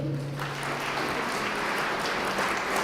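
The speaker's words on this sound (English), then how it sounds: "Ladies and gentlemen, a huge round of applause for HackMotion." A crowd applauding at a startup pitch event, a dense, steady wash of clapping held for a few seconds.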